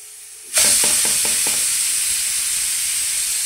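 Halwa prasad for Navratri stirred in a hot pan while chickpeas cook alongside, starting with a sudden loud sizzle and a few quick rhythmic scrapes of the spoon, then a steady close hiss.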